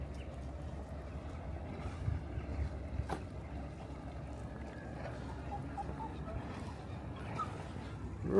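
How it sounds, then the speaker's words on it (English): A fishing boat's low engine rumble carries steadily across open water as it comes into the harbour at West Bay, Dorset, with wind buffeting the microphone and faint birds now and then. "Now we've got a boat coming in the harbour."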